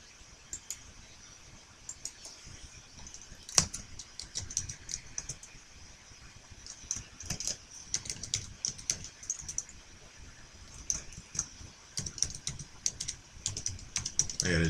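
Quiet, irregular clatter of typing on a computer keyboard while coding a Python bot, with bursts of keystrokes and a few sharper clicks over a faint background hum, and no talking.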